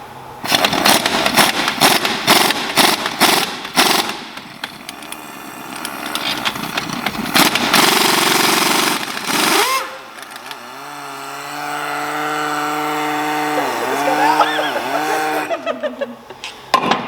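Impact gun working bolts loose on MINI Cooper R53 suspension: rapid rattling bursts in the opening seconds, then a long loud whirring run with shifting pitch that winds down near the end.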